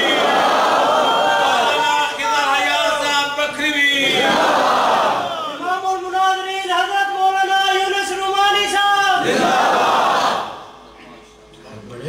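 A large crowd at a religious sermon gathering chants religious slogans in loud unison. There are several drawn-out rhythmic call-and-response bursts, and the sound drops off abruptly at the end.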